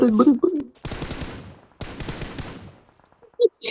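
Bursts of rapid game gunfire crackle in two sustained volleys, with a voice speaking briefly before them and a couple of short sounds near the end.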